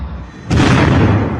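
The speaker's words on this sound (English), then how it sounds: "From inside, the sound of fierce gunfire." Fierce gunfire erupts inside the besieged Kamal Adwan Hospital in northern Gaza, a sudden loud burst that cuts in after a quieter moment and rumbles on heavily and close.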